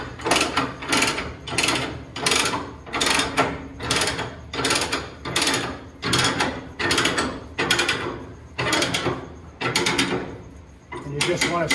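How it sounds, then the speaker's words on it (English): A ratchet is cranked to attach a trash compactor container, making loud, regular metallic clicking bursts in a steady back-and-forth rhythm, close by and alone. "And then you're going to crank it up."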